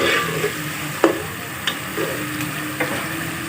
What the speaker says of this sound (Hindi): फुल आंच पे इसको अच्छी तरह भून लेंगे